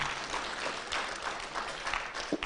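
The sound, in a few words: audience applause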